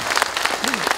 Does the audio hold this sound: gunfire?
no